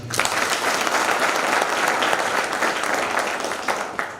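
Sustained audience applause at a live-streamed event in a hall, dense and steady clapping from a large crowd throughout, fairly loud and without talk over it.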